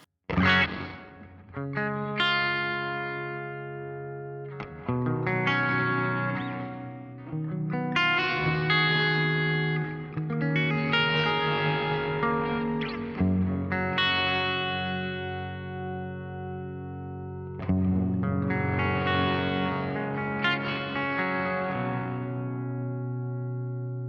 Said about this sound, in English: I'm just going to show you the different sounds of the reverbs.